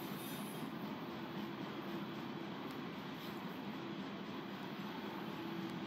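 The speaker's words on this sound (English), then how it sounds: "the train's passing by here at freaking 5 miles an hour" A train rolls slowly past at close range, a steady, continuous rumble with wheel noise and faint squeal that holds evenly throughout, with no voices.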